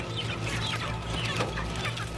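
A dense crowd of chickens clucks and squawks as they are caught at an industrial poultry farm, overlapping calls over a steady low machinery drone.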